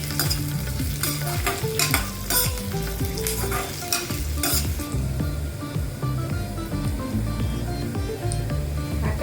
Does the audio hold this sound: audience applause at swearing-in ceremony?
no